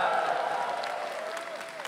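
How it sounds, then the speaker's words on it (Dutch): Cheering and applause from a party congress audience in a large hall, a brief, fairly loud burst of clapping and voices that fades slightly over under two seconds. "voor Lilian mag je juichen hoor"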